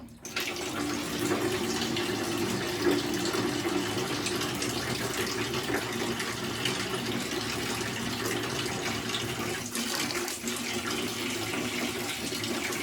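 Water flows steadily from a tube during a pressure experiment, a continuous close, even splashing gush that holds for the whole stretch without talk.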